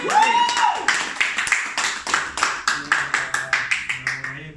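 Staff at a company kick-off event clap to welcome new colleagues, with evenly spaced, rhythmic claps in unison that follow a brief vocal sound at the start.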